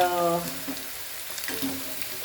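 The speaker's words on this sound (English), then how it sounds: "simple fried potatoes, which I'm frying over here" Sliced potatoes fry in a pan with a steady, crackling sizzle, and a short tonal sound is heard at the very start.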